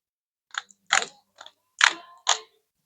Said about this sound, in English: I think that's the first time I've ever torqued a differential cover.